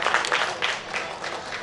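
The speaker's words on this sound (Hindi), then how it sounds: "मेरी आपसे गुजारिश होगी कि एक मरतबा भरपूर तालियां जनाबे तस्लीम नियाज़ी साहब के लिए" Applause from a crowd at a Burnpur festival poetry gathering, welcoming a poet to the stage; a brief, moderately loud patter of many hands clapping, rising and falling slightly.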